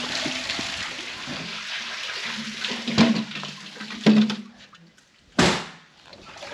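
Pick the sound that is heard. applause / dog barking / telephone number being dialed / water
water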